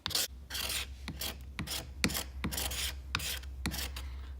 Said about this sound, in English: So I like to take a chisel on edge, kind of scrape it back.